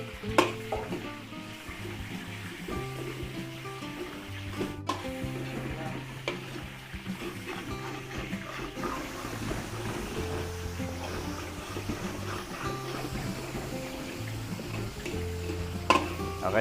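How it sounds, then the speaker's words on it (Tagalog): Chicken fillet and onion sizzle and fry in a pan during Filipino fiesta cooking, with steady stirring and scraping over a continuous hiss and occasional clinks of utensils. "Tapos igigisa rin po natin yung ating chicken fillet."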